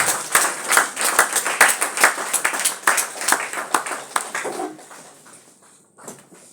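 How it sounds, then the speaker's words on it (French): A church congregation claps in a steady, rhythmic beat, loud and close at first, then thinning out and fading after about five seconds. "On peut acclamer fort le Seigneur."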